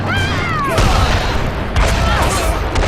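A turret fires in the video game Hand of Fate, giving heavy booming blasts amid a busy fight, with a voice talking over part of the action.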